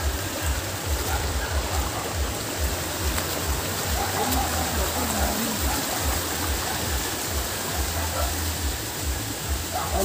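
A stream of water rushing steadily at a riverside in the Bicol countryside, a dense, loud, continuous wash of flowing water filling the whole stretch, with faint voices barely present underneath.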